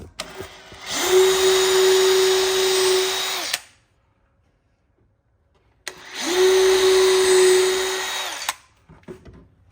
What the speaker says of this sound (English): So I'm going to go ahead and make some holes here.